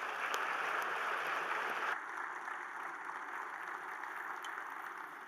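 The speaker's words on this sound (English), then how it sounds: "Let's give them a big round of applause." A crowd at the Little Rock Regional Chamber's annual meeting applauds steadily, a broad wash of clapping that drops a little in level partway through and carries on without speech.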